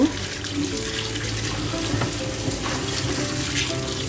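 Tap water runs continuously into a sink as leafy greens (pui shak) are rinsed, a steady close rushing splash with no voices.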